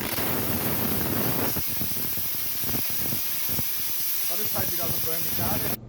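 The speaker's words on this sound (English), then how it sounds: "Kieran's been trying to do it the quick and easy way with the plasma cutter instead." A plasma cutter slices through a steel winch cradle section with a loud, continuous close-up hiss that cuts off abruptly at the end; voices are heard faintly partway through.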